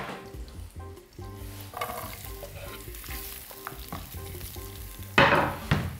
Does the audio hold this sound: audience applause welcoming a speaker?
no